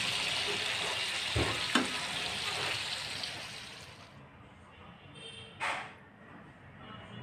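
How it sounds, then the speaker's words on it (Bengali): Pangas fish pieces frying in oil, a broad steady sizzle that fills the pan throughout, with a few sharp clinks and a brief hiss of disturbance near the end as the sizzle quietens. "আবার কয়েক পিস ছিল, সেটা এখন ভেজে নিচ্ছি।"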